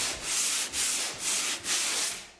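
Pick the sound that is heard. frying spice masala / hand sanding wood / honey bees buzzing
hand sanding wood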